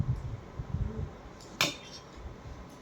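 Plates and cutlery clinking faintly as food is served onto them, with soft scraping and handling noise and one sharp bright clink in the middle.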